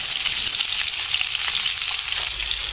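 Ginger and other ingredients sizzle steadily in a hot pan while being stirred, with a constant close frying hiss and no voices.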